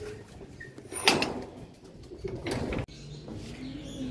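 Racing pigeon arriving at the loft trap during a race on a hot day, with soft cooing and a brief flutter mixed with light knocks of the trap, close by and moderately quiet.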